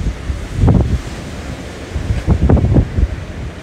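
Gusty wind buffets the microphone in low rumbling bursts at a beach in Brazil, with a soft wash of surf in the background.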